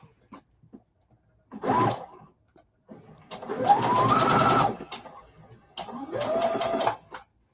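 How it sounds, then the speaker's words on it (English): A sewing machine joining quilt rows runs in three short bursts of buzzing stitching, each rising and settling in pitch, with quiet pauses between and no talking. "now let's get this sewn together. And this is the last row."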